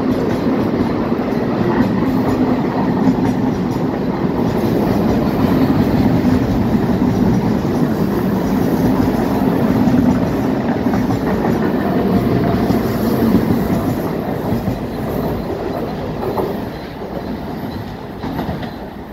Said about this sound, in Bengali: লোকাল যে ট্রেনগুলো খুব হাই স্পিডে যাচ্ছে